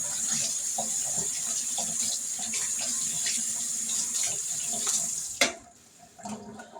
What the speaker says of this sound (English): Rinse this spoon off.